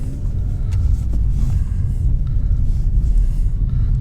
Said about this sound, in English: Here's a car coming.